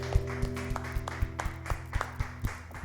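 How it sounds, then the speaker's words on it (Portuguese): A church congregation claps along in a steady rhythm during a family worship service, the sharp hand claps faint and somewhat distant over a low sustained musical hum. "aplaudir ao Senhor"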